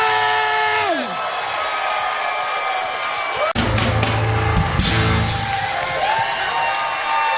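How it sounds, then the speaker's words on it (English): A live stage audience cheers and whoops for Gail Bennington, crowd noise swelling loudly with yells and sustained applause, plus a short sharp break midway. "Huge round of applause for Gail Bennington!"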